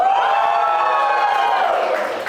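A comedy club crowd in Malta cheers loudly for Romanians, a sustained wash of whoops and shouting voices that holds steady throughout, with little distinct clapping.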